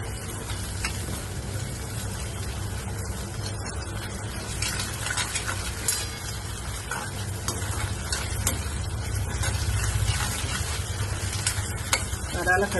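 Half a spoon of ginger-garlic paste sautés in a hot pan, giving a continuous close sizzle broken by repeated scraping and stirring strokes throughout, with no voices.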